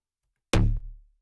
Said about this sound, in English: It's kind of like a pluck bass.